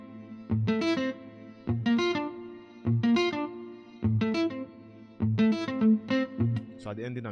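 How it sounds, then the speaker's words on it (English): Lab Grown guitar from Evolution Infinity's Kontakt library plays a bright, effected Afrobeats-style melody with chorus, distortion and a touch of reverb, phrased in short repeating bursts over a steady low bass note. "This guitar is called Lab Grown by Evolution Infinity."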